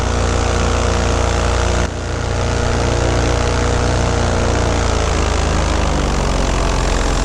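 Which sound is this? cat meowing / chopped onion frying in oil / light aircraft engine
light aircraft engine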